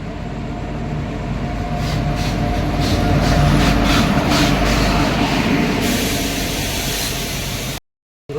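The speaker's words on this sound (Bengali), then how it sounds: "ঢুকছে রাজেন্দ্রনগর হাওড়া এক্সপ্রেস।" The Rajendranagar Howrah Express pulls into a station. A loud, continuous rumbling roar of rails and wheels swells and then holds steady before cutting off abruptly near the end.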